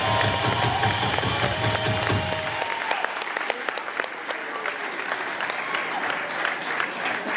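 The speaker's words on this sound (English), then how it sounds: "Please give a huge round of applause." Loud audience applause with cheering at a live music club concert in Washington DC, a dense wash of claps that stays strong throughout with scattered sharper claps standing out.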